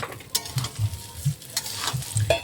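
Rice stirred as it fries in a pan, a spoon scraping and knocking in repeated strokes over a continuous sizzle, close and fairly loud with no voices.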